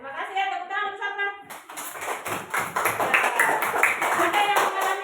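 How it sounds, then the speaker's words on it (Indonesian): A class claps together in a small room after a pupil shares an experience, the short bursts of hand claps starting partway through and continuing steadily after a brief voice at the start. "Tepuk tangan bersama."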